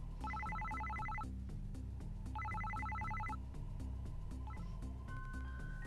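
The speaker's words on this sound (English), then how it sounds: "Suddenly, it seemed like Shiori's cell phone started ringing" A cell phone rings in the Psycho-Pass: Mandatory Happiness game on PS4: two clear bursts of rapid, trilling electronic ringing, separated by a short pause, over steady background music.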